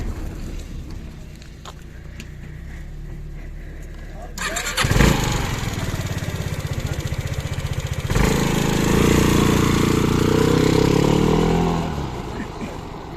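A small scooter engine starts up and runs loudly, revving and idling steadily nearby with some rumble before fading slightly at the end.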